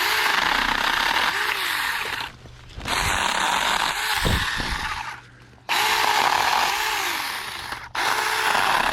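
A small battery-powered Saker mini chainsaw cuts tree limbs close by. The motor whines in steady stretches, and the buzz stops briefly twice between cuts before starting again.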